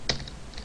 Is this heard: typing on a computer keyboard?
yes